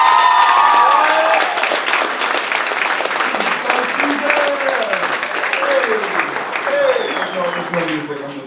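Audience applause and cheering for motivational speaker James Harris at a live performance event, a dense sustained clatter of clapping with whoops and shouts riding on top, loud and continuous throughout.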